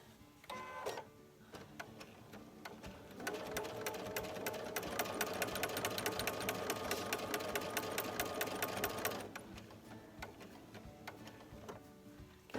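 A sewing machine with a walking foot runs a fast, steady stitching rhythm while quilting, stopping and starting briefly at the beginning, then humming continuously for several seconds before stopping.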